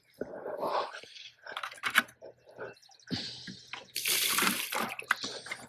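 Dirty water being changed out during farm chores: splashing and pouring water in irregular bursts, close and fairly loud, with quiet gaps, a steady low hum and a brief animal-like sound in between.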